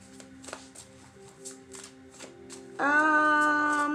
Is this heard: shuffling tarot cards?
yes